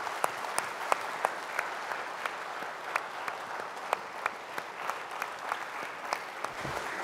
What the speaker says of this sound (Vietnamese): Chúng ta làm tràng pháo tay chúc mừng ban thừa tác viên thánh thể.